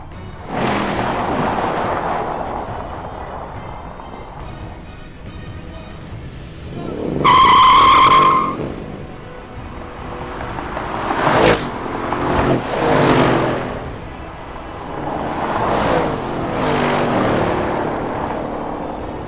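An Audi RS6 and a Mercedes-Benz CLS AMG accelerate in turn, each engine note rising and fading as the cars pass, with loud swells and a sharp high whine partway through; no talking.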